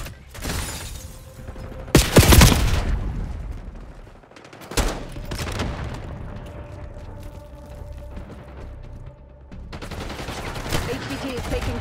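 Gunfire from a Black Ops 6 match: loud automatic bursts and sharp single shots crack close by, with a heavy volley near the start, mixed with game effects and other battle noise.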